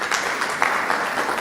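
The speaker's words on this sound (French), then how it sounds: "Je vous demande de l'applaudir très fort" Audience at a leadership conference applauds for a speaker named Paul, a short burst of dense clapping from many hands with a few sharper claps standing out.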